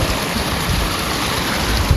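Snowmelt water runs in a mountain stream near Vasudhara waterfall, close by the last village of Mana, with a loud, steady broadband rush that carries on without a break and has no voices over it.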